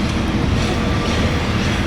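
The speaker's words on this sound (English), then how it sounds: "Oh, the tram." A Lisbon street tram rumbles past close by, a loud, steady rolling roar of wheels on rails with no clear breaks.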